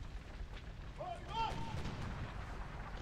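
Ship cannon fire in the sailing game Sid Meier's Pirates!, a single deep booming blast mid-clip over a low rumbling wash of sea and wind, fairly quiet, with brief in-game tonal sounds and a player talking.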